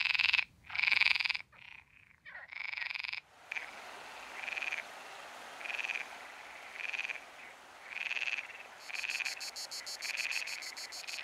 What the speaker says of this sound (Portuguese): pelos caniços, os machos de rã verde exibem-se para as fêmeas